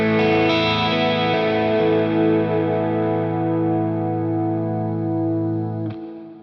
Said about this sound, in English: the modulated reverb is a little bit more subtle than the plate reverb that's built into the Katana